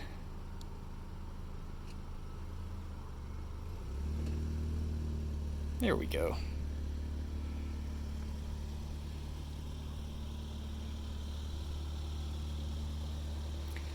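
A 2020 Hyundai Sonata starting up and creeping forward on its own under Smart Park remote control: a low steady drivetrain hum that swells slightly as it moves, with a person speaking briefly nearby.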